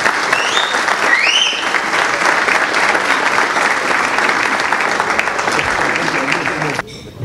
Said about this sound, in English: A big round of applause for Eren, please.